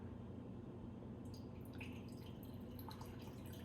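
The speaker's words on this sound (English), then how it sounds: "we'll pour 50 milliliter pouring over the top of the sugar cube" About 50 ml of liquor is poured over a sugar cube into a drink at an Irish pub, a faint trickle and soft drips that begin after a second and continue irregularly.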